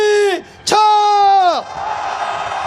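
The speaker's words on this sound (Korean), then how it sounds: "용산 집무실을 향해서 힘찬 함성 질러보겠습니다." Protest march crowd raising a loud collective rallying shout toward the presidential office, a sustained roaring cheer that dips briefly, surges again, then trails off into ongoing crowd noise.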